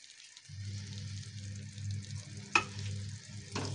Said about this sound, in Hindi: और इसे मिक्स कर दूंगी धनिये को।